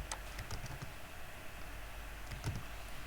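Faint computer keyboard typing, a few scattered key clicks in a quiet room, soft and close, with no speech.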